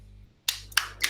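Applause after a thesis defense in embedded systems, heard as three sharp, separate claps spaced out after a brief quiet, close and sparse rather than a full crowd.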